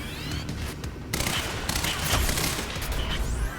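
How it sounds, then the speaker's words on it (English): Submachine gun fire in the Quantum Break video game, dense rapid bursts and booming impacts that build after the first second into sustained loud fire, with no voices over it. "Switch to our submachine gun."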